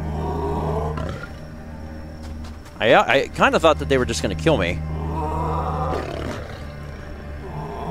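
Lions roaring in the game Everything: a loud cluster of deep roaring growls in the middle, rising and falling over a few seconds, with someone talking before and after against a steady low hum.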